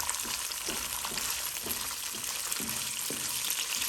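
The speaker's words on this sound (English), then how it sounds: "I'll be adding a little more olive oil just for the pine nuts to have a better flavor." Steady, dense sizzle of pine nuts frying in hot olive oil, close and continuous, with faint scraping stirs recurring every half second or so.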